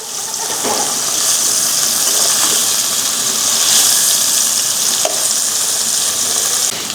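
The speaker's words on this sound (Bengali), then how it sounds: "এইভাবে পনিরগুলো আমি ভেজে নিচ্ছি" Paneer pieces frying in a little oil in a nonstick pan, a steady close crackling sizzle with faint scraping stirs throughout.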